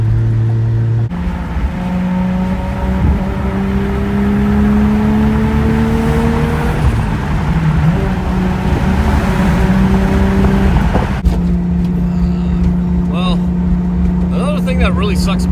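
A 1JZ-engined Toyota Supra merging onto a freeway: a loud, close engine drone climbs steadily in pitch through the gears, with a shift near the start and another near the end, under road noise.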